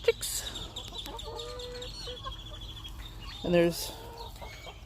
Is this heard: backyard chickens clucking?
yes